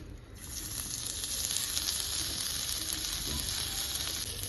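Spice-coated bitter gourds sizzling in hot oil, a steady, fairly faint hiss that rises just after the start and holds evenly throughout, no talking.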